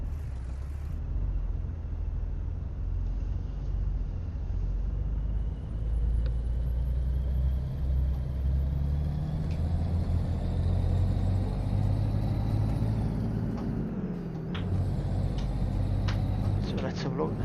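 A truck in Euro Truck Simulator 2 backs up with a steady, loud low engine rumble that drones throughout, with some brief higher hisses and clicks near the end.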